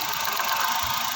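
A Suzuki DA64 engine with a cylinder 1 misfire and a check engine light runs steadily at idle, a close, constant mechanical hum with a faint rough rattle and no talk.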